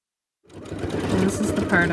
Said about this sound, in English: So we're going to sew along here.